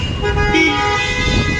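Busy evening traffic on the 100 Feet Road in Bangalore, with car horns tooting repeatedly over a steady roar of road vehicles, loud and close throughout.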